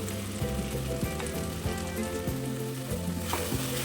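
Fried fenugreek leaves dropped into well-cooked sizzling curry masala for a dhaba-style egg curry, a loud steady frying hiss with faint stirring scrapes and soft rhythmic thumps throughout, no voices.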